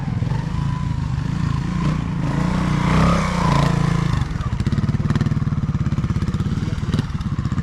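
A trials motorcycle picks its way over a farm section, engine revving and chugging in uneven bursts close by, with clattering as it climbs and drops over rough ground.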